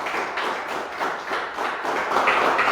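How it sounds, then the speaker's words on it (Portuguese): A church congregation claps in steady rhythmic applause during a worship service, a continuous patter of many hands at moderate level with no talking. "Uma salva de palmas para o Senhor."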